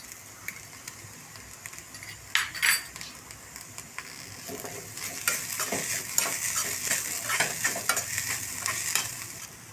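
Green chillies sizzling in oil in a pan for egg podimas, with steady frying hiss and occasional stirring scrapes and clinks of a spoon against the pan, growing busier in the second half.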